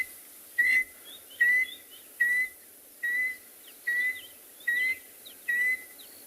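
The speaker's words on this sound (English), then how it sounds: "There's a contact call between a male and a female." A clear, bright bird whistle, a contact call between a male and female recorded on a morning safari in South Africa, repeated about eight times in an even rhythm, each note short and rising, with faint background hiss between calls.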